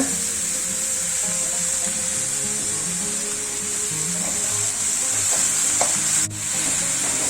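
Spring onion curry with milk is stirred in a hot pan, a loud, continuous sizzle with scraping and shuffling underneath and a short knock near the end.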